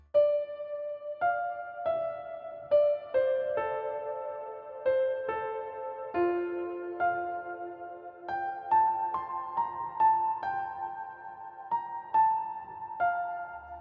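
Solo piano playing a gentle, clear melody over sustained chords, notes struck one at a time with a relaxed, even rhythm.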